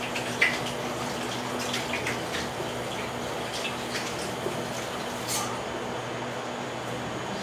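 Tap water runs steadily into a sink as hands are washed, a continuous close splashing hiss with a few brief knocks and no talk.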